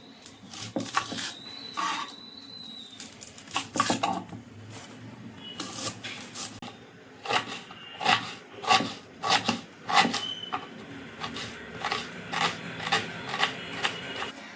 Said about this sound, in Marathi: हा कांदा चिरून घ्यायचा आहे।